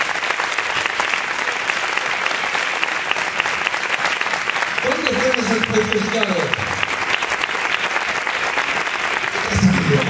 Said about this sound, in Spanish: Y nosotros lo recibimos con un muy fuerte aplauso.